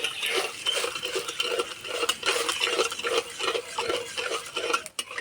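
Sugar and water are stirred in a pan until the sugar melts for a crisp flour-and-sugar sweet, a rapid close scraping of spoon against metal in steady rhythmic strokes.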